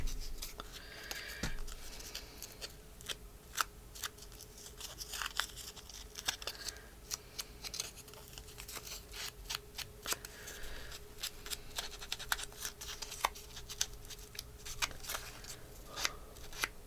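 Scissors snip repeatedly through blank notecard paper while a notecard pocket is made, crisp close cuts in an irregular rhythm with some paper rustling between them and no talk.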